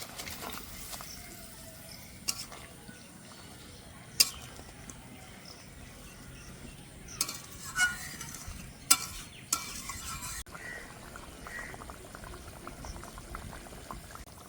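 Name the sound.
adding katla fish pieces to boiling curry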